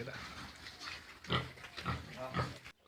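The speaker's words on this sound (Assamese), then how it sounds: "এইকেইটা চব গাহৰি পোৱালিকেইটা" Nine piglets about 25 days old grunt close by at a pig farm in Assam while eating feed, in a few short bursts over a low background murmur.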